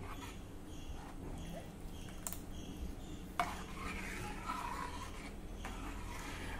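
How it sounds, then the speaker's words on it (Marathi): A ladle stirs kadhi, a yogurt-based curry, as it boils in a pot over a high gas flame, giving soft scraping and rubbing with a few faint clinks of metal against the pot, steady and close. "कढी ही सतत ढवळत राहा,"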